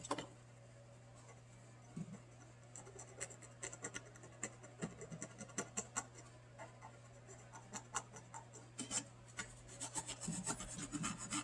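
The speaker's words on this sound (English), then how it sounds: "I'm just see if I can clean it off with some rubbing alcohol" Steady rubbing and scratching as a Nintendo 64 game cartridge's contacts are scrubbed clean with 90% rubbing alcohol, close and continuous over a constant low hum, with no talk.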